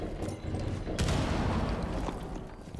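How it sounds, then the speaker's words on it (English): Dense gunfire in Rainbow Six Siege, with a steady rattle of overlapping shots and a sharper crack near the middle, heard from close by against noisy in-game ambience. "I'm getting shot from both sides!"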